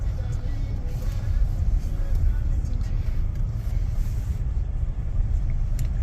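A Tesla Cybertruck in off-road mode rolls onto the Bonneville Salt Flats, its steady low rumble of road and drivetrain noise heard from inside the cab at a constant level throughout.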